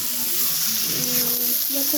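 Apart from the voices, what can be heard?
prawns and pumpkin cooking in a pan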